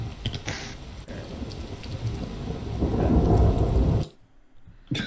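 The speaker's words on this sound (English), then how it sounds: "the rain effect moves with the cube" Rain and rolling thunder ambiance from a video game, a steady loud downpour swelling with a low rumble before cutting out abruptly into near silence, then briefly resuming.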